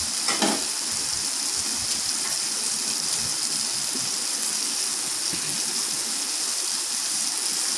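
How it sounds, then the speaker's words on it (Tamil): Prawns fry in oil in a pan with a steady, dense sizzle throughout. The sound is close and even, with no talking. "பாருங்கள், இறா வந்து நல்லா சூப்பராக ஃப்ரை ஆகிடுச்சு."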